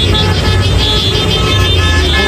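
A loud, dense wash of traffic noise with car horns sounding together at an anti-corruption protest, sustained and continuous throughout.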